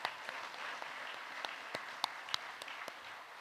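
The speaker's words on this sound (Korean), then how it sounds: "선교사님께 감사 박수 드리겠습니다" Applause of thanks for a visiting missionary at a Korean church men's fellowship dedication service, a steady wash of clapping from the congregation with a few sharper individual claps standing out, no talking.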